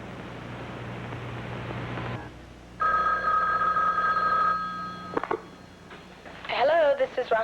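A telephone rings in repeated electronic bursts on a call to the fire department, heard through a hissy line with a steady hum, and a voice speaks briefly near the end.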